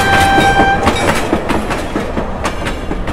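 A train at a station platform, loud rumbling wheels with rhythmic clickety-clack and a brief sustained tonal horn or whistle at the start, continuing steadily.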